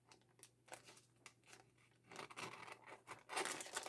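Scissors snip paper in a quiet series of short cuts that get denser and louder toward the end, heard up close with no talking.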